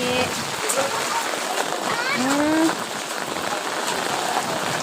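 Rain pours down steadily in a dense, continuous patter while voices talk briefly underneath.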